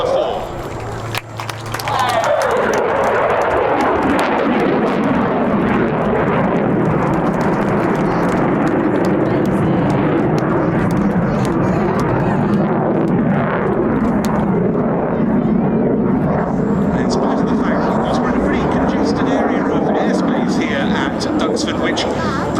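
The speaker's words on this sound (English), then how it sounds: "Coming in to complete his display with a hopefully spectacular departure, Flight Lieutenant David Turnbull" An RAF Eurofighter Typhoon jet leaves the Battle of Britain Airshow at IWM Duxford with a loud, steady roar. The broadband engine rumble stays strong the whole time and changes slowly as the jet departs, with no pauses or gaps.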